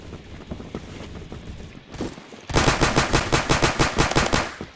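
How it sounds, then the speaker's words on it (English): Light machine gun firing in a video game, rapid bursts of gunfire that build into a loud, steady rattling stream of shots, close and alone without talk. "Nice LMG."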